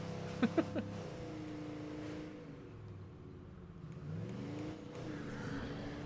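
Car engine in State of Decay 2, a spiked vehicle low on gas, droning steadily with shifting pitch as it drives, plus a few brief knocks near the start.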